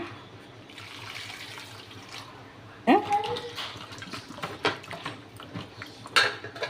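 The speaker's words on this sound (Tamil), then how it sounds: "தண்ணி ஊற்றி நல்லா கழுவிடுங்க" Running water splashes and trickles at moderate level while ginger is rinsed, with occasional clinks and knocks nearby.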